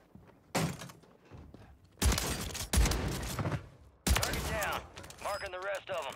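Shotgun blasts in Warzone 3 on Rebirth Island, with a Reclaimer 18 shotgun: several loud, sharp bursts spaced a second or two apart, mixed with game action, and a voice talking partway through.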